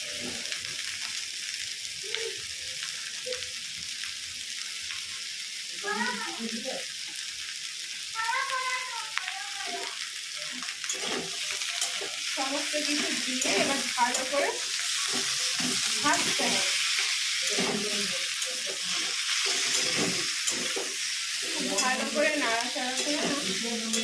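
Chicken pieces fried in a pan after onions, sizzling steadily while a spatula stirs and scrapes in repeated strokes, close by; the frying grows louder and busier midway, with no voices.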